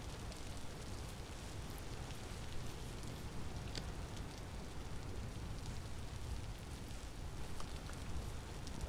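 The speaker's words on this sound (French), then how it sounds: "il pleut" Steady rain falls in the survival video game Vintage Story, a soft continuous hiss and patter on surfaces, even and fairly faint throughout with no voices.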